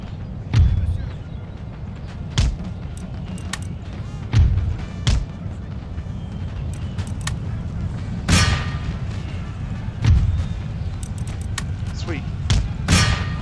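Artillery cannons firing in the Empire: Total War battle game, a series of deep booming thuds spaced irregularly across the battlefield, loud against a continuous rumbling ambience, with someone talking.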